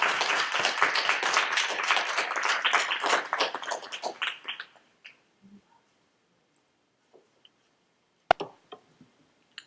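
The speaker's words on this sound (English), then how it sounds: "Mad Mule applause for Sophia!" Lively clapping and cheering from an audience at a library slam poetry open mic, a dense burst for about four seconds that quickly dies away, leaving a near-silent room with a few scattered taps and knocks.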